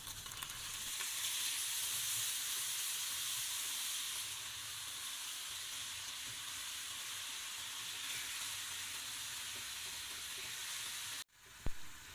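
Minced pork frying in a saucepan with a sauce added, a steady bright sizzle that holds evenly, then a brief break and a louder clatter at the end.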